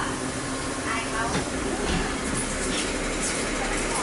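Third-class local train riding past Pasak Dam, a steady broadband rumble and hiss of the moving carriages heard from inside, continuous and fairly loud throughout.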